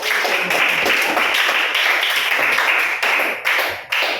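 A classroom of students claps together in sustained applause, dense and even, tapering briefly near the end.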